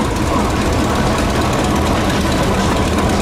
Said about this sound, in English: Here we have a case CC built in 1935.